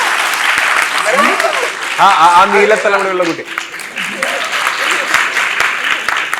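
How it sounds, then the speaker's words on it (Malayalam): Audience applause at a Malayalam film talk show, a broad continuous wash of clapping throughout while a voice speaks over it in the middle. "ഒരു കൈയടി."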